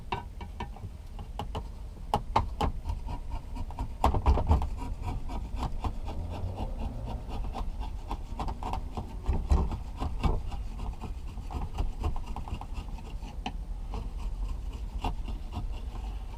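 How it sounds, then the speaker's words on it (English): Sandpaper rubs over wood while a three-string guitar is being built, producing repeated scratchy strokes with light taps and knocks, close and fairly steady throughout. "A little bit of sandpaper on that."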